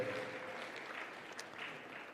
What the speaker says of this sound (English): Ladies and gentlemen, another round of applause to Dr. Rasha Khaled